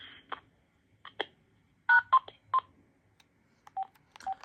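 Short keypad tones from an AT&T CL83464 cordless phone sound in a sparse sequence of separate beeps, crisp and close, with button clicks between them and no talk.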